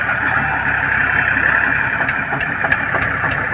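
A tractor engine idles steadily in a farm field just after starting, a loud, close, continuous rumble with little change in rhythm.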